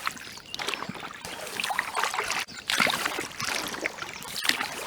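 Water swishes and gurgles close by as a canoe paddle dips and pulls through a river, in a continuous splashy wash with rhythmic strokes and brief dips in level.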